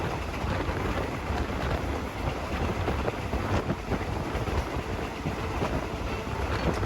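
Thai tourist train no. 921, running from Bangkok's Hua Lamphong toward Khok Salung, gives a continuous low rumble of wheels on rail, with wind buffeting the microphone throughout and no talking.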